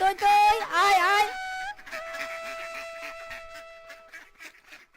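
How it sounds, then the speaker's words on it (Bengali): Cartoon ducks quack and honk in a loud, nasal burst near the start, followed by a long tonal note and softer, choppier quacks that trail off. "ওরে বাবা, মিসকের হাঁসগুলো তো বেশ নাদুস নদুস"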